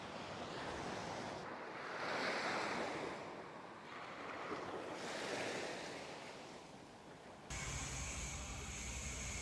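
Waves lapping at the shore off Phuket, Thailand, a soft rolling wash that swells and recedes in slow surges, with light wind noise and a faint steady hiss, no voices.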